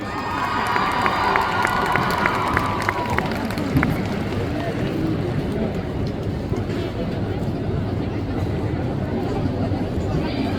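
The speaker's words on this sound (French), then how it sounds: "On l'applaudit bien fort s'il vous plaît." A festival crowd at a cosplay contest cheers and shouts loudly and continuously for a performer on stage, dense and lively throughout, with a brief run of electronic beeps early on.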